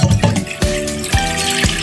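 Tap water runs steadily into a cooking pot for boiling cassava, a continuous close splashing rush with a few clunks of the pot, no voices.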